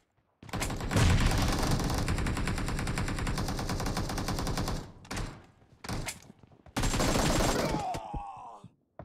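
Rapid automatic gunfire in a BGMI battle-royale match rattles loud and continuous for several seconds, breaks off, then returns in shorter bursts before fading.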